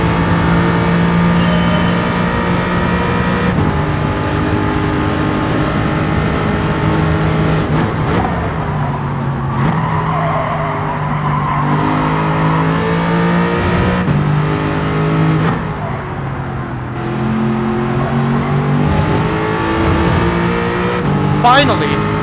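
Race car engine in the Gran Turismo 7 video game, revving hard with harmonic whine climbing and dropping through gear shifts, loud and continuous throughout, with a voice talking over it at points.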